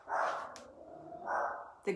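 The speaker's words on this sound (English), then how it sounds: "Can you hear the dog?" A dog barks in bursts nearby, with a couple of loud barks spaced through the moment and a sharper yelp at the end, set against outdoor background noise while garbage collection appears to be underway.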